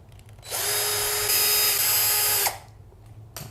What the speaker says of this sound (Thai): เราเพียงถอดน็อตนะ ถอดน็อตออก